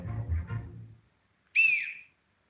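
In a Charlie Chaplin film, a swallowed whistle produces a single shrill hiccuping whistle tone, clear and loud, following a brief stretch of muffled low sound.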